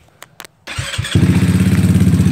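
A GY6 scooter engine with a Ban Jing CDI sputters briefly, then catches and settles into a loud, steady, close-up idle with an even pulsing rhythm.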